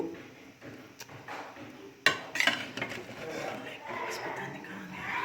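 A spoon stirs biryani in a pot at home, with scraping, a sharp metallic clink and shuffling pot sounds, while people talk nearby.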